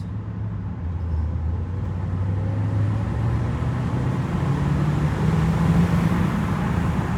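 A Mercedes E55 with a supercharger whines with compressor sound while driving, a steady rising tone over engine and road rumble inside the car, with no talking.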